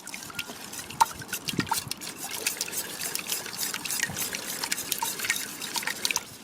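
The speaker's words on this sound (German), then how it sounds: "Und da wird das aufgerührt mit dem Schneebesen." A whisk stirs a liquid liver mixture for homemade Palatinate liver sausage, giving a steady wet sloshing and dripping with small splashy clicks, close and moderately quiet, with no talk.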